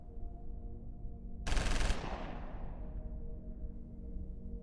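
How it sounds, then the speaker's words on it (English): A sudden burst of gunfire cuts in after a quiet, humming stretch: one short, loud, dense crackle of rapid shots lasting about half a second, then a long fading echo that trails off over the next couple of seconds. "Outside, we heard a sudden burst of gunfire."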